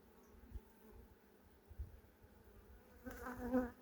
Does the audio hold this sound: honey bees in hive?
yes